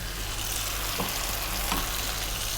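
A beef stew for Arab-style beef and potato stew sizzles steadily in a pan as fresh tomatoes go in, a continuous broadband frying hiss with a couple of faint soft clicks and no talking.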